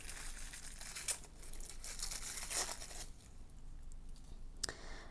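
Tissue paper is unwrapped from a roll of washi tape, close, crisp crinkling and rustling in uneven bursts with a few sharper tearing crackles, heard alone.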